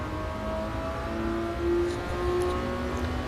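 In GT Sport, a 1994 McLaren F1 engine revs with a sustained, tonal whine that climbs and falls in pitch, loud and close, swelling twice with no talking.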